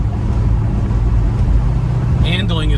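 A 1972 Chevrolet Chevelle cruising at 50 mph, its steady loud engine and road drone filling the cabin, with a voice starting up near the end.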